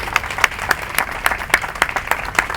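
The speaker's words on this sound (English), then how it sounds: "so please give yourselves a round of applause." Scattered hand clapping from an audience at an annual meeting forms a series of sharp, uneven claps, fairly loud and close, thin rather than a full roar.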